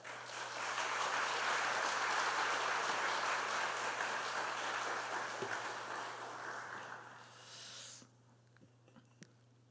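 A church congregation gives warm applause, a broad wash of clapping that holds for about eight seconds, thins, then stops abruptly, leaving a quiet hall.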